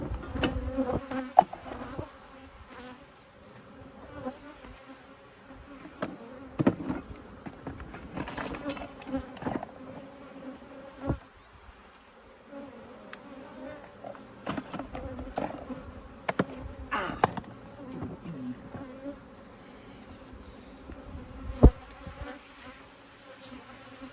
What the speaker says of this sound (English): Bees are really aggressive today.